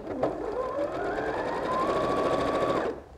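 A sewing machine runs in one continuous burst of about three seconds, stitching quilt block fabric with a fast, even mechanical whir and rapid needle clatter, close and fairly quiet.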